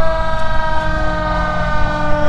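A mountain volunteer fire department's fire truck in a Christmas parade holds a loud, steady siren tone layered over a rumbling engine, sustained without a break.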